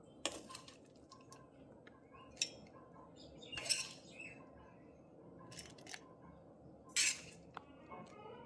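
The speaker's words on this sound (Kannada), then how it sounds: "ಈಗ ಮಿಕ್ಸಿ ಜಾರ್ಗೆ ಹಾಕ್ಕೊಳ್ತೇನೆ" Roasted ingredients being tipped into a mixer jar: sparse metallic clinks and scrapes of a spoon against the jar, with quiet gaps between them, close and fairly faint.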